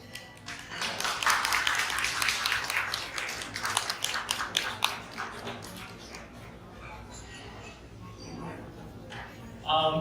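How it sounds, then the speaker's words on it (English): Audience applause at the close of a concert, a steady patter of clapping from a modest crowd that swells, then gradually tapers off with a few remaining claps and some talking mixed in. "I'm going to have Ryan bring up all the artists for one final round of applause"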